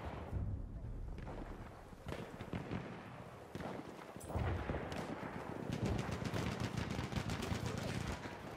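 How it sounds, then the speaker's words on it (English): Machine gun fire in Battlefield 1 multiplayer Conquest in the Argonne Forest, dense rattling bursts mixed with heavier booms, steady and loud throughout with faint talk underneath. "There's a machine gun."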